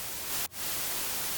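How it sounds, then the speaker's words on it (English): Flat hiss of white noise played in music production software, loud and steady, broken by one very brief dropout near the start. "So if I get like a piece of white noise,"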